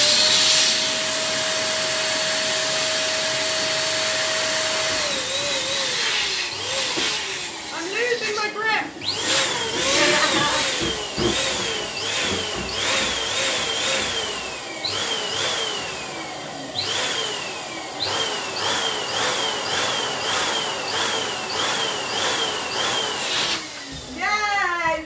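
A powerful air blower runs steadily and loudly throughout while inflating a massive balloon indoors; people talk over it, with brief dips in the roar and occasional squeaky rubbery whines.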